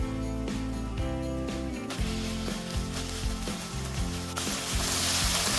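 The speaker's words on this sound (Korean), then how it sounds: "프라이팬에 기름을 살짝 두르고 당근을 볶아줍니다" Carrots sizzling in a lightly oiled frying pan, a loud continuous crackle with repeated stirring and scraping strokes from a utensil, with no voices.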